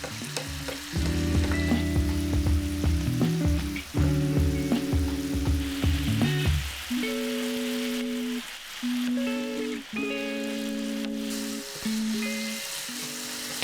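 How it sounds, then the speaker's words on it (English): Burdock root stir-fried with mirin sauce in a pan for kinpira gobo gives a loud, continuous sizzle and crackle with periodic stirring scrapes, under steady background music. "Then add 1 tablespoon of mirin and continue to stir fry until the sauce is completely reduced"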